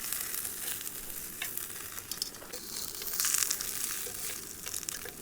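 Sausages and onions frying on a camping stove outdoors, a soft continuous crackling sizzle with light scraping, fairly quiet.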